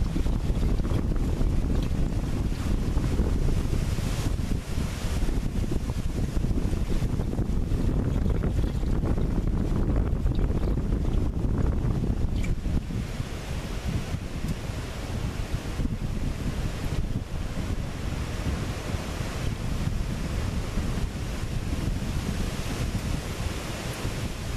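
Strong wind buffets an outdoor microphone during a Flex oil change, a loud continuous rush with heavy low-end gusts that ease slightly partway through, no speech.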